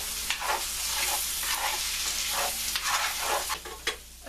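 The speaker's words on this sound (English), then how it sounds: "And break up the yolks and scramble them up." Six eggs with broken yolks are scrambled in a pan on a burner, with repeated scraping stirs over a soft, steady sizzle.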